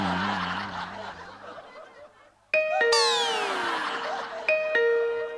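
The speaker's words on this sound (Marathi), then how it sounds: "ऐकलीस बेल?" After a burst of audience laughter in a stage comedy sketch, a doorbell rings a bright ding-dong, followed by a sweeping chime and a second ding a couple of seconds later, loud and clear.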